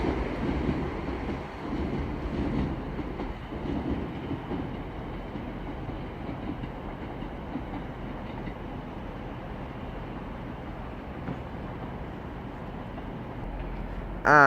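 A Class 323 electric train pulls away from a station on the Styal line at Manchester Airport, a low steady rumble and hum at moderate distance that fades slightly, with a brief louder knock at the very end.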